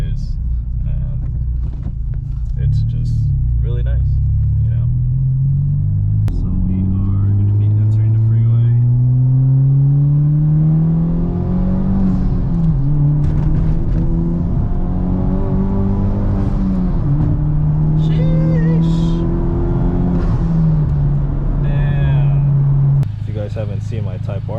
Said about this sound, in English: It's a really nice sounding exhaust for what it is